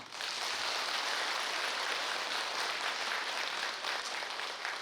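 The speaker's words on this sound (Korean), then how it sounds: "여러분 그분들한테 큰 박수 한번." Steady, dense applause from an audience at a Buddhist temple ceremony opening a pre-death Yesu-jae rite, holding loud and even from start to finish with no voices over it.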